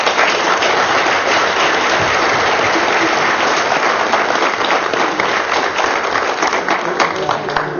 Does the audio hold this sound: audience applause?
yes